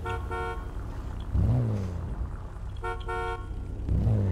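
A car horn in GTA 5 roleplay gives two short, clear honks about two and a half seconds apart over a low idling engine hum, with no one talking.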